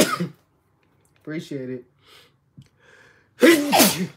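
A person sneezes loudly and close by with one sharp burst, while other voices talk briefly before it.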